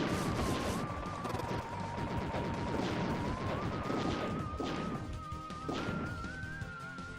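Grenades explode repeatedly in the arcade shooter Wild Guns Reloaded, a loud, continuous clatter of blasts and crashes layered under a steady sustained musical tone, with no voices.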